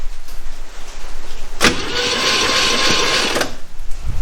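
A 1971 Chevy Nova engine, sitting abandoned for about 30 years, cranks over on the starter for roughly two seconds with a steady loud whir and a slightly uneven rhythm, preceded and followed by quiet background.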